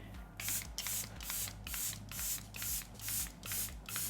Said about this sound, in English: Now what I'm going to do is spray again.